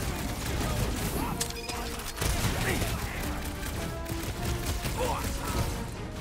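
Rapid gunfire in Guardians of the Galaxy, dense overlapping shots and impacts running throughout amid busy combat noise, with a voice speaking over it.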